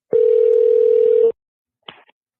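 A telephone call rings out as a single steady tone lasting just over a second, then silence and a brief click-like blip, clear and close with nothing else around it.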